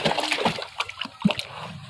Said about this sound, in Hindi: ये बहुत उछल रहा है पानी में।